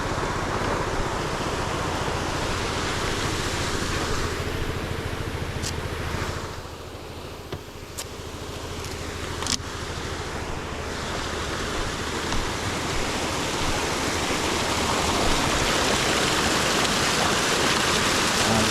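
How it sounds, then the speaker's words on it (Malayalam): Snowmelt mountain waterfall near a high Himalayan pass, a dense continuous roar of rushing water heard up close, broadband and steady throughout with a brief dip midway, with no speech. "നമ്മളെ തൊട്ട് ഫ്രണ്ടിൽ ഇത് അടുത്ത ഫാൾസ്"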